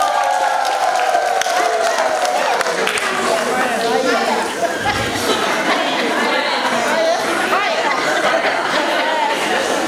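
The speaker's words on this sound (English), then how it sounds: "can we clap for God?" An audience at a school leaders' award ceremony claps and cheers together, a dense wash of hand claps mixed with crowd chatter that holds loud and steady throughout.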